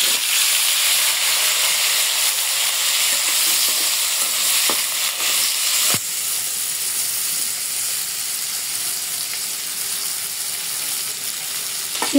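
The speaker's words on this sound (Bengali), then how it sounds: "এই তেলেই সিমগুলো একটু ভাজে নেব।" Winter flat beans fry in a wok of hot oil left from frying prawns, a loud, continuous crackling sizzle with occasional sharp clicks of a spatula against the pan, easing slightly partway through.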